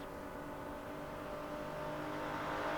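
A Ford Mustang racing against an Alpha in a 1967 touring car event at Silverstone in Assetto Corsa accelerates with a steady, loud engine drone that rises gradually and continues without a break, with no voices over it.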